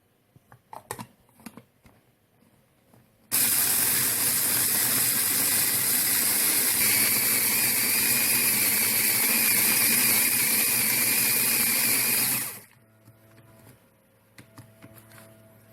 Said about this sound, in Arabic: هلا رح نطحنهم.